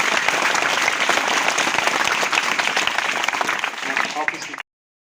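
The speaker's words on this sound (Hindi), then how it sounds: "मैडम का पुनः सभी का ताली बजाकर धन्यवाद।" A crowd at a child-marriage awareness rally claps in thanks: dense, steady applause from many hands, loud and close, running for several seconds before stopping abruptly.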